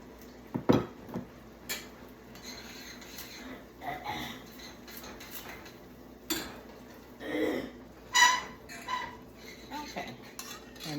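A bowl and dishes clink and clatter in a kitchen while oatmeal is being made, with scattered knocks and scrapes, some close and sharp, others soft, and no talking.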